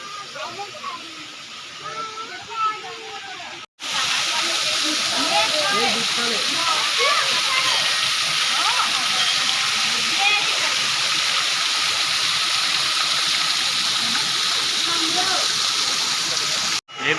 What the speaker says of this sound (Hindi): ये देखिए पूरा झरना बारिश में बहुत ही उफान मारता है